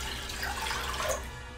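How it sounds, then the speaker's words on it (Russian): Water pours steadily from a tap into a saucepan for a chicken-cube broth, a continuous close rushing splash that eases off at the end. "И заливаем водой."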